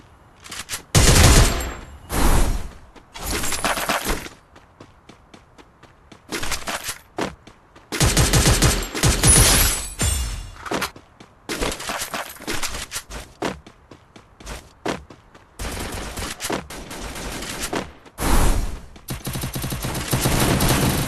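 MP40 submachine gun fire in a video game, heard as loud, repeated automatic bursts of varying length separated by short pauses, close and with no talking.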